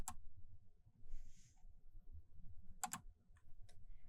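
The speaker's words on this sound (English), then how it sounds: "then type in the search bar Google Scholar" Keyboard typing on a computer while entering a search, a few quiet clicks and short bursts of keys with soft gaps between them, nearby and faint with no talk.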